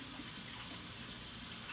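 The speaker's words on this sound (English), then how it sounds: "let me wash my hands." A kitchen tap runs steadily for hand washing, a faint continuous hiss and splash of flowing water without any other sounds.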